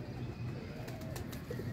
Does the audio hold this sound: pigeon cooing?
yes